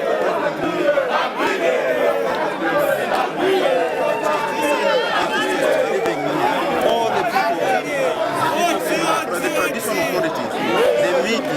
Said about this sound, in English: who was cheered by a crowd of supporters